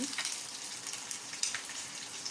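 Pork belly frying in a pot, a dense continuous sizzle and crackle that stays close and steady throughout, with no talking.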